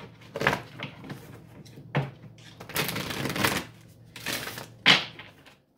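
Tarot cards shuffled by hand in several separate bursts of riffling and slapping, close and fairly clear, with short quiet gaps between them.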